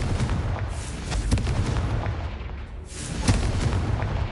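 Confringo spell blasts in the video game Hogwarts Legacy, booming explosive bursts over a dense rumbling background, with a sharp hit near the middle and another swell of blast noise toward the end.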